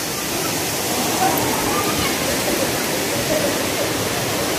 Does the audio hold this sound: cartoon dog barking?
no